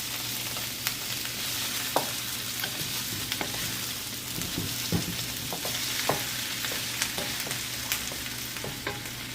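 Chicken wings sizzle and fry in a pan while being stirred and mixed, a steady close crackling hiss with occasional scraping and clinking of the utensil against the pan.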